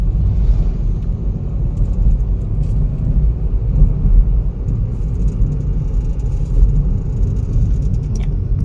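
A tractor-trailer truck pulls out on a road near Ao Udom in Rayong, its engine giving a steady, loud low rumble that fills the whole stretch with no break.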